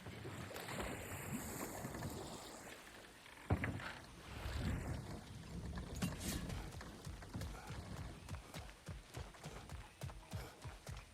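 Boat rowing in the video game God of War Ragnarok, quiet water sloshing with a steady series of oar strokes that grows more rhythmic toward the end, with no talk.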